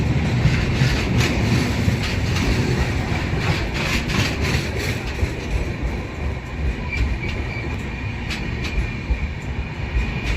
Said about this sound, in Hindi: पुष्पक एक्सप्रेस ट्रेन गोविंदपुरी को स्किप मार रही है, और भाई काफ़ी बढ़िया रफ्तार में निकल रही है ट्रेन